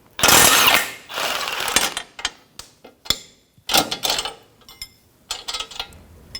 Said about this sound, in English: so 18mm wrench and socket